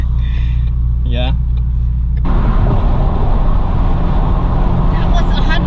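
Cabin of a 420whp EcoBoost Mustang at about 100 mph: a steady, loud road and engine roar fills the interior, with voices talking over the low hum before the rumble swells and holds.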